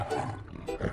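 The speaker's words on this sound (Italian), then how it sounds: "più del ruggito del leone della MGM?" The MGM lion roar plays as a film logo sound, a loud, rumbling growl with two swelling pulses over about a second, with no talking.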